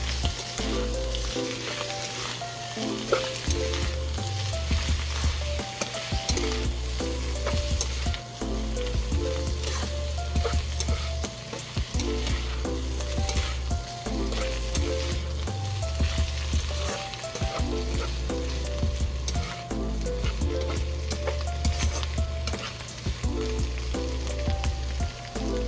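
Sliced hotdog being stirred while it fries in a pan for Filipino-style spaghetti, a steady close sizzle with scraping stirs throughout, under continuous background music.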